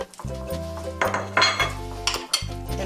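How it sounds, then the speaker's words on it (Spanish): A spoon stirring spiced chicken pieces in a bowl, with repeated ringing clinks and scrapes against the bowl's side in an uneven, busy rhythm, heard up close. "Removemos bien todas las especias con el pollo"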